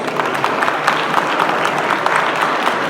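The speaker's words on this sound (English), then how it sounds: "Let's give them all a big round of applause." Large audience applause at an engineering conference's inauguration and prize-distribution function, a loud, dense, continuous wash of clapping filling the whole stretch with no gaps.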